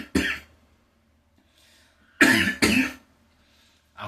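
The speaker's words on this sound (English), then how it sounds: "I got a cough that I had to get out" A man coughing, one sharp cough then a quick double cough a couple of seconds later and another starting at the end, close and loud with silence between.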